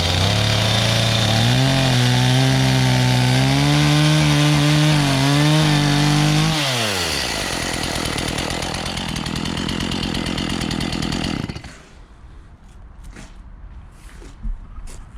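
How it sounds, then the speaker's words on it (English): A 2021 Stihl MS 170 chainsaw starts up and runs loud and close, its engine revving and wavering for several seconds before winding down and dropping away to quiet with a few faint knocks at the end. "now for the second time I will start the machine"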